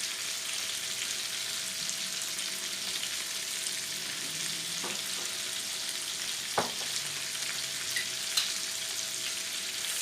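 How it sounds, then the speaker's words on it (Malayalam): Vegetables sauté in a hot pan with a constant close sizzle and crackle, with a few sharp clicks of a utensil stirring against the pan and no talking. "അപ്പോൾ അധികം നേരം സോട്ട് ചെയ്യണ്ട, ജസ്റ്റ് ഒരു 2 മിനിറ്റ് മതി."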